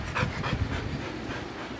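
A pet dog named Bruno pants steadily after travelling. The quick, breathy rhythm carries on without a break and sounds close and moderately loud.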